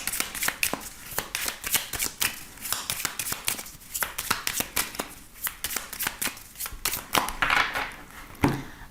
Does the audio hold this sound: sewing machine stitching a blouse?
no